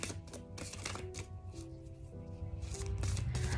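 Tarot cards are shuffled by hand close up in soft, quick riffling bursts, over a quiet tonal background.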